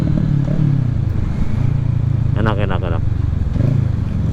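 A Kawasaki ER6N motorcycle with an aftermarket Akrapovic exhaust rumbles steadily at close range, a low, throaty drone, with a voice briefly speaking over it.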